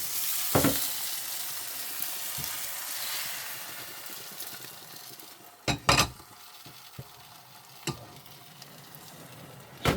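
Bánh xèo batter hisses in a pan over medium heat, a steady close frying crackle with a few sharp clinks of a utensil against the pan.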